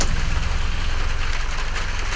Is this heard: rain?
yes